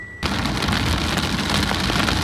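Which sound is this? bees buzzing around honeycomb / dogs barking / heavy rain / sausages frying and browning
heavy rain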